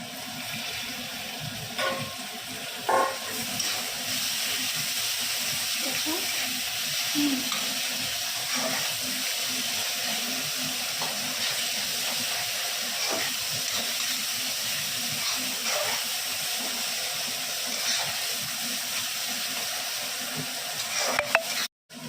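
Fish eggs frying in a little oil in a pan, a continuous close sizzle with light stirring scrapes, steady throughout with no talk.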